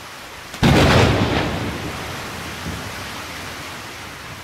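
Heavy rain roars as a loud, dense wash of noise, opening with a sudden thunder-like crash that slowly fades into steady downpour, with no talking.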